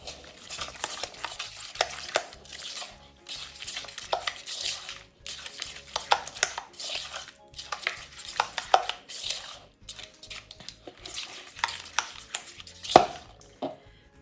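A marinade with chopped garlic and ginger is stirred by hand in a bowl, giving soft wet squelches and spoon scrapes in an irregular rhythm, close up with no talk.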